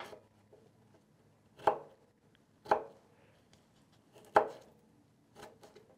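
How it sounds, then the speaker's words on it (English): A knife dices fresh strawberries on a cutting board, giving three or four distinct, close chopping thuds at irregular intervals with quiet gaps between them. "then we're going to dice it and have 2 cups of our diced strawberries"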